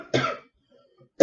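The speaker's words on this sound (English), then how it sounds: "I keep coughing for some reason in this reading." Two sharp single coughs from one person, close to the microphone, separated by about a second of near silence.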